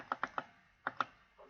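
A computer mouse clicks sharply and close by in a quiet room: a quick run of three clicks, a short pause, then a fast double click.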